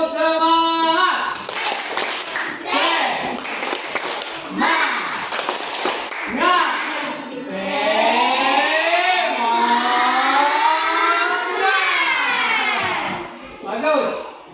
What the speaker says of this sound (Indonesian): Bisa kita tepuk semangat?